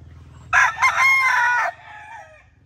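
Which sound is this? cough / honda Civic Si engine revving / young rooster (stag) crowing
young rooster (stag) crowing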